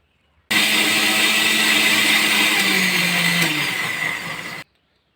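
An electric mixer grinder whirs loudly and steadily for about four seconds, grinding cinnamon stick, cloves and black peppercorns into a spice paste for chicken curry, starting and stopping abruptly.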